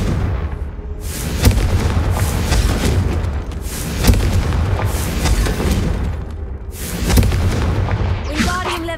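Confringo fire spells burst repeatedly in the Hogwarts Legacy game, making loud booming explosions that recur every couple of seconds over a dense rumbling battle background, with brief voices.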